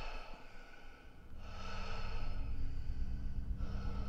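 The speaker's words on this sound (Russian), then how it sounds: "там кто-то очень тяжело дышал" Heavy, rasping breathing in a dark corridor, growing louder and more drawn out over a few seconds, with no voices.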